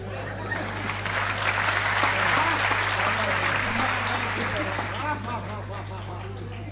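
An audience at a Hindi comedy poetry show breaks into steady applause that swells in the middle and eases off toward the end, with a faint crowd murmur under the clapping.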